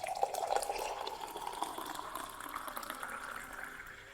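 About 200 ml of water poured into a glass, a steady close liquid stream with a gently rising pitch as the glass fills, heard alone.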